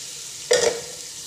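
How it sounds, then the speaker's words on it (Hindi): Garlic drops into hot ghee for nehari, giving one brief, bright sizzle that quickly fades, close and alone without speech. "इसको थोड़ा सा हमने ऐसे घी में हल्का सा इसको हमने पकाना है ताकि लहसुन की स्मेल जो है वो ख़त्म हो जाए"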